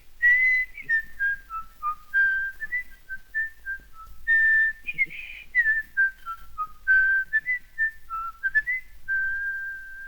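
A single person whistles a clear, lilting melody alone, phrase after phrase with short pauses, close and fairly loud.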